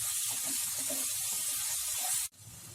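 Turmeric and salt frying over a high flame for Hyderabadi turai gosht, giving a loud, steady hiss and sizzle that breaks off suddenly near the end and leaves a quieter crackle.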